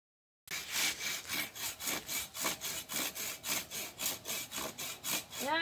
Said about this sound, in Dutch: ik ga hem misschien meer wegzagen